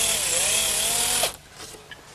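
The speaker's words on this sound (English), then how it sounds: "I'm taking the precaution of pre-drilling the holes" A power drill pre-drills holes in wood for soft brass hinge screws on a Shaker wall clock, a steady close whir that cuts off abruptly, leaving faint handling noises.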